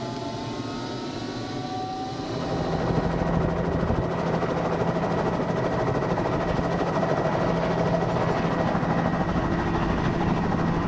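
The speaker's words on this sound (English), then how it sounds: "Well, anyway, we got on the helicopter," Helicopter in flight over volcanic terrain in Papua New Guinea, a steady broadband rotor and engine roar that swells after the first couple of seconds and then holds constant and close.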